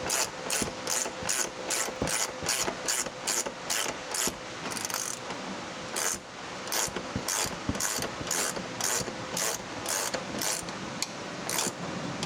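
A ratchet tightening bolts during a 6-inch Zone lift kit install on a 2006 GMC truck, with rapid, steady, loud mechanical clicking in close bursts and a brief pause partway through.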